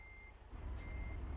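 Truck reversing alarm from American Truck Simulator: a high electronic beep tone sustained in two stretches with a short gap, over a steady low diesel engine rumble that swells partway through.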